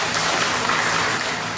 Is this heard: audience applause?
yes